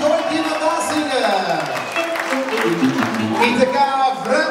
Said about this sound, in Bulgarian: бурни аплодисменти за тези прекрасни двойки на дансинга